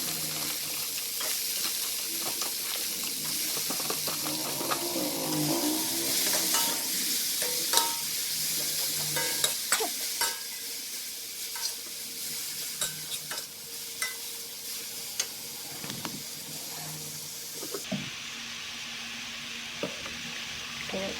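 Bean sprouts stir-fried in a hot pan, a steady sizzle with repeated scraping and clinking of the spatula against the metal, close and fairly loud throughout, the frying fading slightly near the end.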